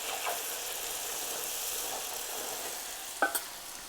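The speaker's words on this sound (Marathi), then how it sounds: "हे जे आपलं कॉर्नफ्लोअर आहे ते हे तेलामध्ये आपल्याला सोडून घ्यायचं आहे" Cornflour fries in leftover oil from festive snack frying, giving an even close hiss and sizzle with two brief sharper pops toward the end and no talk.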